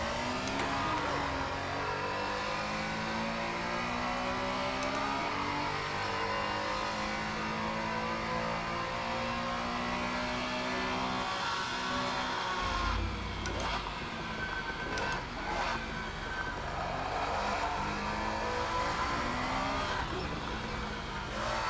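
Race car engine in the Assetto Corsa racing game at the Imola circuit, revving and shifting continuously through a lap, loud and steady with a burst of low rumble partway through, with no talk.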